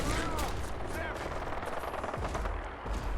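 Shotgun gunfire in the video game Fallout 4, a dense run of loud blasts and rattling shots over a busy game soundscape, with a player's voice talking over it.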